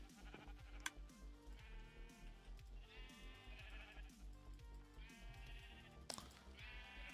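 Minecraft sheep bleat over and over in a blocky game world, with wavering cries repeating every second or two alongside soft ticking game sounds, all fairly quiet and with no talking.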